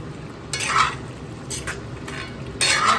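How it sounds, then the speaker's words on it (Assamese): A spoon scrapes and stirs meat cooking in a pot, three bursts of metallic scraping over a soft steady sizzle, close and fairly loud. "লৰাই আছোঁ আৰু"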